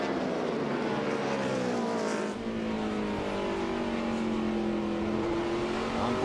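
Onboard engine of the Budweiser Chevrolet NASCAR stock car at the 2006 Subway 500 drones loud and close, a steady harmonic roar that briefly dips off the throttle, then climbs and holds as the car accelerates.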